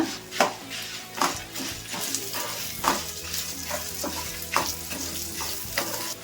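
Five or six Byadagi dried chillies and a handful of curry leaves fry in hot oil for sambar, a continuous close sizzle broken by periodic scraping stirs of a spoon in the pan.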